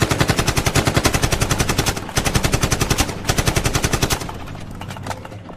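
Rapid bursts of machine gun fire in a Nigerian action movie: loud, fast-repeating shots in several sustained volleys with brief gaps, then fading into a duller rumble near the end.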